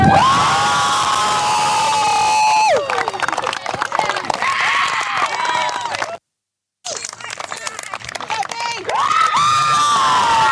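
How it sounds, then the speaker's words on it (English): A crowd at a women's football championship cheers and claps for the winning team, with high whoops and shouts, mostly loud and continuous apart from a brief dropout, while voices call out over it. "please stand and give a big round of applause for the 2025 Women's Sun Bowl champions, the Bayside Ravens"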